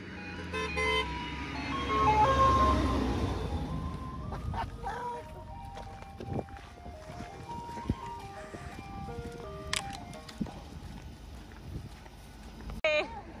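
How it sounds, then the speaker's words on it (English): An ice cream truck near Pere Marquette by Lake Michigan plays its tinkly melody, a stepped chain of bright notes drifting closer over outdoor ambience and passing road noise, loudest early and lingering throughout. "I think there's an ice cream truck coming in Pere Marquette."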